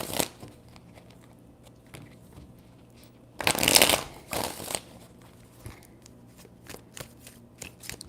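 Tarot cards being shuffled by hand, a dense riffling burst in the middle flanked by a few lighter card flicks and taps, close and fairly quiet with no talk.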